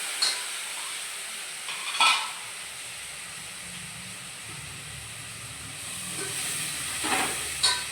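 Masala frying in a pan for a kasuri methi and potato katli dish, a soft steady hiss with a few sharper stirring scrapes near the start, middle and end, and no talking.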